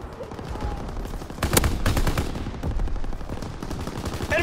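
Sustained suppressing gunfire in the World War II shooter Call of Duty: WWII, a dense battlefield mix of machine-gun bursts and rifle shots that swell louder mid-way and keep rattling throughout.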